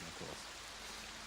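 Rain ambience plays as a steady, soft hiss of falling rain, continuous and even throughout, with no distinct drops or other sounds rising above it.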